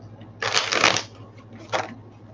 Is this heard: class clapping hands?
no